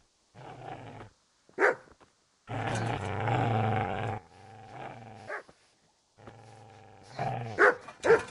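A dog growls and barks in the medieval video game Kingdom Come Deliverance, with several snarling bursts and a long low growl separated by short pauses, loud and close, with no speech over it.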